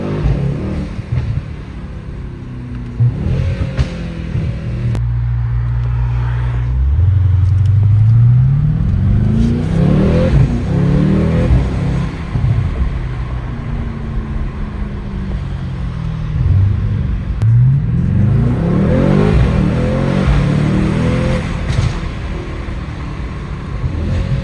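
A 650 hp Mercedes-AMG GT63s accelerates hard through a wealthy Los Angeles city, its engine note rising through several gears in loud, close, rumbling sweeps, easing off between pulls.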